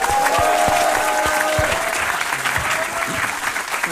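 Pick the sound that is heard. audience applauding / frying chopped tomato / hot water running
audience applauding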